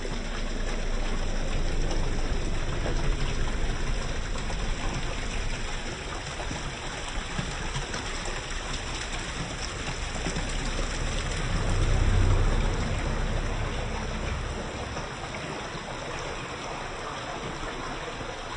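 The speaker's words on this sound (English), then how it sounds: "this is the water going down from the hillside" Rain-fed stream running down a hillside beside a Scottish sea loch, a steady broadband rush of flowing water that stays constant and fairly loud throughout, with a brief swell near the middle.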